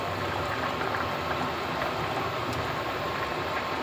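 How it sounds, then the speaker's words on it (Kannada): Vegetables for bassaru bubble in a pot, a steady, dense hiss and simmer with no pauses and no voices. "ಇದೆಲ್ಲ ಸ್ವಲ್ಪ ಬಾಯ್ಲ್ ಆಗಲಿ ಒಂದು ಅರ್ಧ ಬಾಯ್ಲ್ ಆಗಲಿ"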